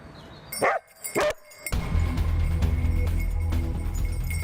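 A young search dog named Charlie barks during a night search for a missing person: two sharp, loud barks close by, then a steady low rumble of a vehicle or wind carrying on underneath.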